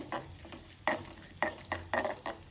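Cumin seeds and seven or eight black peppercorns dry-roasting in a pan, with a run of scraping stirs and light crackles coming in short bursts, close and moderately loud, no voices.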